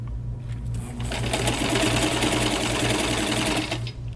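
A sewing machine runs steadily, stitching around the edge of a thrifted decor piece, its close rapid mechanical whir starting up and then holding a constant rhythm before slowing at the end.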